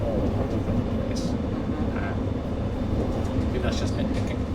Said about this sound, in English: The ride quality of the train is not very impressive